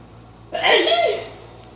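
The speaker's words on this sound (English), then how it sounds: "Let's sneeze." A single loud, breathy human sneeze bursts out close by after a brief quiet moment, then trails off.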